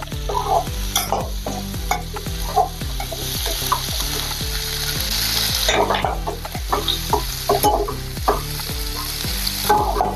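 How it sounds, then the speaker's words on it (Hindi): An onion, green chili and spice mixture for dhaba-style aloo do pyaza fries in a pan, sizzling steadily while a spoon scrapes and stirs in a repeated rhythm, close and fairly loud with no talking. "सभी को अच्छे से मिक्स करेंगे और थोड़ा देर इसको भी भूनेंगे"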